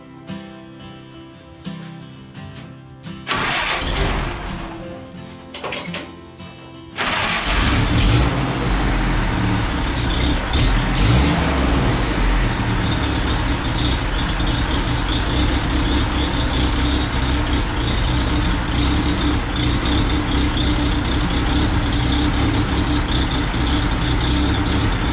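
Car engine cranking to life after a distributor swap, then settling into a steady idle around 750 RPM; sputtering start is followed by a continuous, even, close rumble that carries on unbroken.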